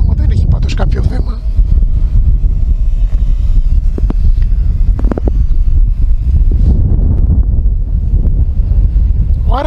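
Strong gusting wind buffets the microphone of a Heliway 913 drone hovering outdoors, a loud, continuous low roar with rumbling surges and a few faint higher tones over it.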